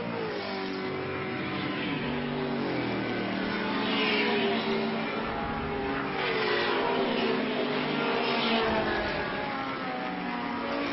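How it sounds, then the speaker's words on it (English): Mini and Chevrolet Camaro race cars lapping a circuit, engines revving hard and continuously with shifting pitch as the pack goes through, loud and close with no talk over it. "here we've got the Mini attacking the Chevrolet Camaro, and this is the part of the circuit that the Mini loves"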